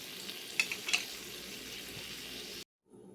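Holy trinity vegetables and garlic sizzle steadily in an Instant Pot on high, with a few stirring scrapes near the start before the sound cuts off abruptly.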